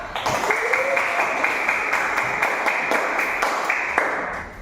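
A school class claps together in a steady, rhythmic beat, loud and close, with children's voices chattering underneath.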